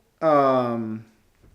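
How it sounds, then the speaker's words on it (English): A house cat gives one drawn-out, complaining meow, close and fairly loud, lasting under a second before fading into quiet. "The cat complains."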